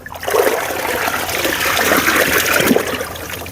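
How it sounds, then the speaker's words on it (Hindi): Water poured into a mixture of desi cow fertiliser with jaggery, splashing and spilling over the sides in a steady trickling pour lasting a few seconds, close and fairly loud. "आधे से ज़्यादा पानी तो बाहर ही गिर"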